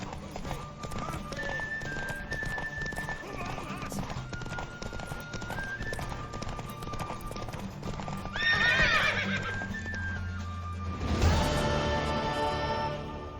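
A horse whinnies loudly in The Witcher 3, then clip-clopping hooves and another neigh follow, all over a steady game music backdrop.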